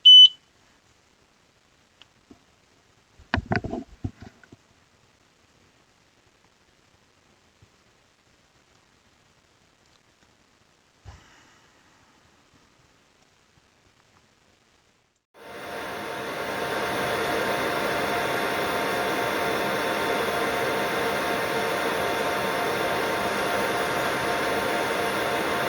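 An xTool laser engraver making a 3D relief engraving: a few faint clicks and beeps, then a steady, loud broadband whirr of the fan and motion that starts abruptly and runs without a break.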